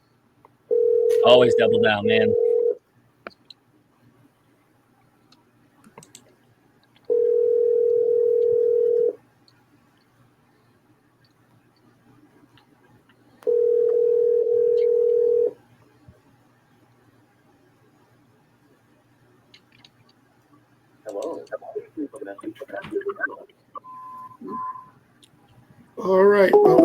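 A telephone ringback or dial tone sounds in three separate steady beeps of about two seconds each, spaced several seconds apart, with brief speech at the start and toward the end around them.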